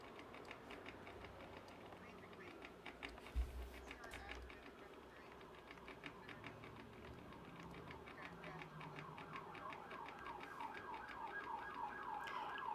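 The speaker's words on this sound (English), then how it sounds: "let me wait for the siren to pass." A wailing emergency siren sweeps up and down in the distance, growing gradually louder over steady background noise.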